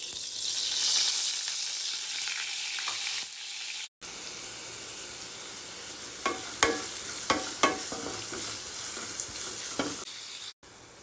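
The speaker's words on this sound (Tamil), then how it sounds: "நல்லா இது மாதிரி வதக்கிக்கோங்க வெங்காயத்தை." Onions fry in oil in a kadai, a dense close sizzle broken by two brief gaps, with sharp stirring clacks of a spatula against the pan in the second half.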